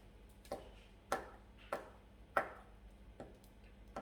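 A kitchen knife chops bacon and onion into small cubes on a board, five or six sharp, evenly spaced knocks about half a second apart, close and clear against a quiet room.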